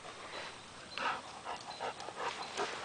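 A puppy pants in quick, soft, breathy bursts close by, faint and intermittent over a quiet background with no talking.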